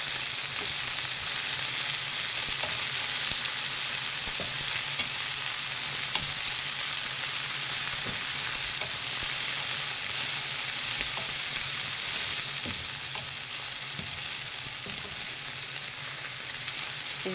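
Coriander and curry leaves fry in hot oil, sending up a loud, continuous, close sizzle with faint scattered stirring ticks and no voices.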